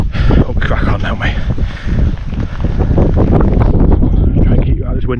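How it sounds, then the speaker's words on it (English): Strong wind buffets the microphone on an exposed hike in the Berwyn Mountains, a loud continuous rumbling roar with gusts, as someone talks close by. "Try and keep you out of this wind a little bit."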